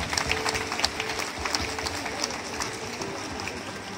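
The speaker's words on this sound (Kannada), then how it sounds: "ಅದಕ್ಕೋಸ್ಕರ ಇನ್ನೊಂದು ದೊಡ್ಡ ಚಪ್ಪಾಳೆ" Applause from an audience after a dance performance by children at a Mahashivratri temple event: a steady, moderately loud patter of many hands clapping through the whole stretch, with crowd murmur underneath.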